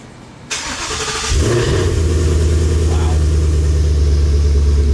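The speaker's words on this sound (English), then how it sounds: "we're starting today's video with the loudest cold start known to man" A Ford Mustang engine cold-starting loudly: a brief cranking whir, then a sudden roar that settles into a deep, loud, steady idle close by.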